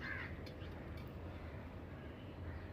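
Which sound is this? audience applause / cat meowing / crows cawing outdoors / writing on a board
crows cawing outdoors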